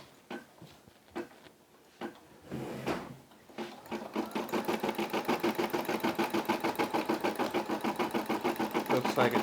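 A Brother SE600 embroidery machine stitching a Puma logo, starting with a few scattered knocks and clicks before settling into a steady, rapid mechanical chatter that runs close and loud to the end, with faint talk early on.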